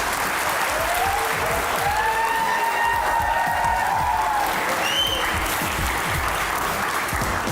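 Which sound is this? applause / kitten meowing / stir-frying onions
applause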